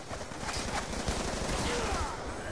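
Rapid bursts of gunfire fill a Black Ops 2 match, dense overlapping shots rattling loudly and continuously, with brief voices mixed underneath.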